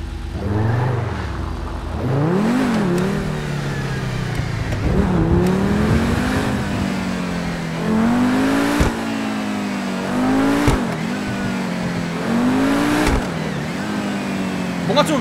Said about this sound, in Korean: 뭔가 살짝 전기모터 소리 들리는 것 같은데요